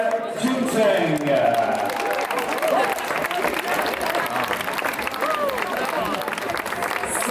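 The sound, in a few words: crowd applause for marathon finisher Cheng Jingcheng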